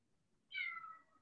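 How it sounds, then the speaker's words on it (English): A house cat lets out a single drawn-out meow, close and clear in an otherwise quiet room. "Can you hear him meowing?"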